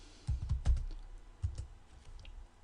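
A computer keyboard is tapped in a few quick bursts of close keystrokes, with a short pause between groups.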